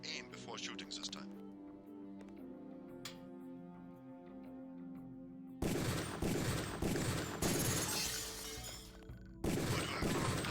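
Gunfire on a shooting range in Deus Ex, a dense loud burst of shots and impacts after a stretch of quieter game sounds and a speaking voice.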